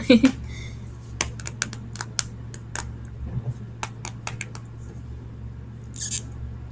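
Sharp, scattered tapping clicks on a slime container, close and crisp, spaced unevenly over a faint constant hum, with a brief rustle near the end.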